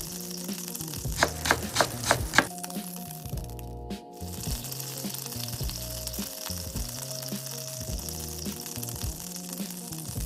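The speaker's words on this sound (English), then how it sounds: "Let's chop up the onion just like a ninja." On a sizzling hibachi table, a knife chops onion in a quick burst of sharp taps, then a steady hiss of frying continues beneath repeated scraping and clattering of metal utensils on the griddle.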